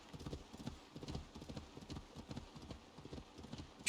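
Horse hooves clip-clopping in a steady trotting rhythm in Assassin's Creed Valhalla, fairly quiet and close, with no talk over them.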